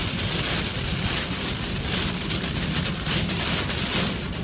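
Heavy thunderstorm rain pounds a moving car on the road, a dense, unbroken roar of drops drumming on the roof and windshield, loud and steady with no voices.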